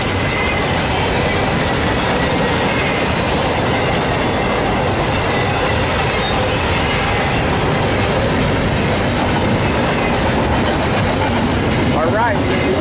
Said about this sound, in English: This is a Z train. Yep, that's FedEx.